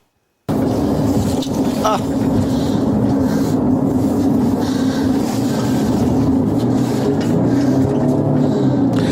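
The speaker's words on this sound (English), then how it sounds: "You can hear the engine revving." A Ford Explorer police unit's engine roars hard and continuously while the vehicle moves at speed, heavy wind noise buffeting the microphone throughout.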